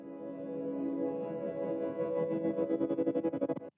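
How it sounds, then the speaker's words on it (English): A sustained synth sample is chopped by a tremolo effect, smooth at first and then pulsing into a fast, rhythmic stutter before cutting off abruptly. "Add a tremolator to make it stutter up."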